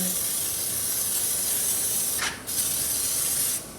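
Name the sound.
spraying generic brake dust cleaner onto a wheel rim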